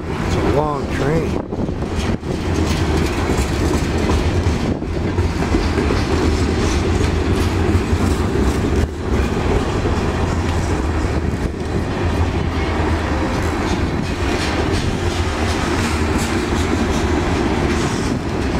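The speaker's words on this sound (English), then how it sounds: "It's a long train." Long BNSF freight train heading south at sundown, a loud, continuous rumble and rattle of rail cars rolling past close by for the whole stretch, with wind noise and a voice talking over it.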